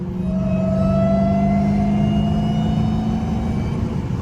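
Supercharger whine from a 900-horsepower Dodge Hellcat on the move: a loud, steady high-pitched whine that rises slowly, held over a constant engine drone without a break.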